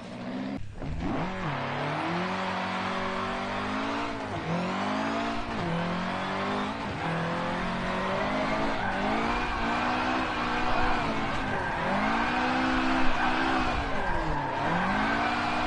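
A car drifting in the racing game Forza Horizon 5, its engine revving and rising and falling in pitch through repeated slides, with tire squeal, loud and continuous throughout with no talking.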